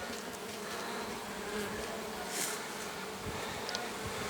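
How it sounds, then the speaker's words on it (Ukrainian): A dense, steady buzzing of many honey bees in a hive, close and continuous throughout, with no voices. "Весь рій на місці, льотна бджола тут."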